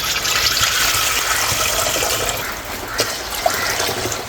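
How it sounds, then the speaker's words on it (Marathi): Water from a copper pot pours steadily into a vessel in a home kitchen, a continuous loud splashing rush lasting several seconds without pause. "2 तांबे पाणी टाकीते"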